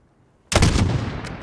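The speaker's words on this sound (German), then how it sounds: "Schieß, wenn du so weit bist." A single loud sniper rifle shot in Call of Duty Modern Warfare cracks sharply after a half-second of near silence, followed by a short decaying echo and a faint later tick.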